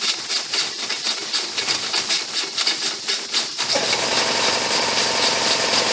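A noisy air compressor rattles with rapid pulsing, then shifts to a steady, loud, continuous hum partway through, with no voices.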